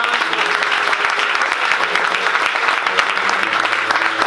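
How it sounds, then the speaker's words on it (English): An audience claps loudly and continuously, a dense, steady wash of applause from a large crowd that stays close and even throughout. "can you all do a big round of applause, everybody?"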